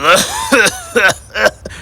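A cartoon car coughs and sputters as if sick, voiced by a performer: four rough, throaty bursts in an uneven rhythm, loud and close.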